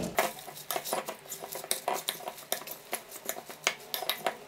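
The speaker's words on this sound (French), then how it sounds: "Mélangez votre salade avec 2 cuillères à soupe" Utensils toss a salad with pesto in a bowl, giving quiet, rapid clinks and scrapes of metal against the dish in an irregular stirring rhythm.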